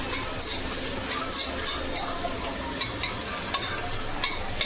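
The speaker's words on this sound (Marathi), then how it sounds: "पहिला कांदा फक्त कांदाच परतून घ्यायचा आहे" Chopped onion sautés alone in a pan for pulao, sizzling and frying steadily with soft stirring scrapes and occasional clinks throughout.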